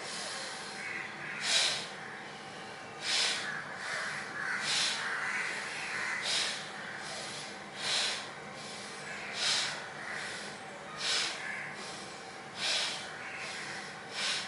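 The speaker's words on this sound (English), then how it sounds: "Every time we twist, we'll exhale from the nose." Repeated sharp exhalations through the nose during yoga twists, about ten forceful puffs spaced evenly roughly every one to two seconds, close and clear against a quiet room.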